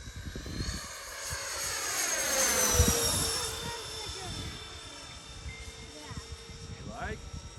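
A Freewing F-14 Tomcat electric ducted fan RC jet on its maiden flight makes a rising, whooshing whine as it passes nearby, with a Doppler sweep, then fades into the distance, with people talking outdoors.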